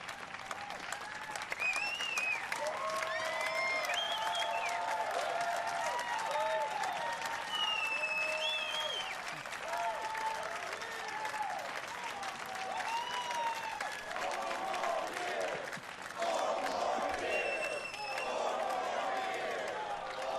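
A large convention crowd applauds continuously with a dense wash of clapping, whoops and overlapping voices, swelling and holding at full strength throughout.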